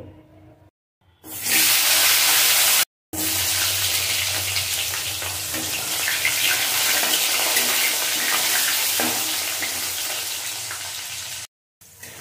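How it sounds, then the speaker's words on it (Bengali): Potatoes dropped into hot oil left from frying fish, erupting into a loud, steady sizzle that fills the pan, broken by brief silent gaps, with no talking. "আলুগুলো ভেজে নেব প্রথমে"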